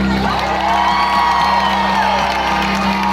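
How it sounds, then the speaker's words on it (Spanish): A festival crowd at an open-air fiesta concert cheers, whoops and claps loudly and continuously, with shouts rising over a steady roar of applause. "Un fortísimo aplauso para Tania Camaño."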